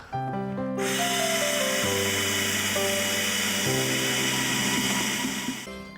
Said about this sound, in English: safety glasses are on because the drilling factor is about to commence.